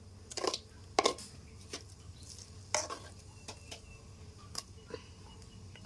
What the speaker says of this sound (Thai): คุณยายกำลังคนให้เข้ากันนะคะ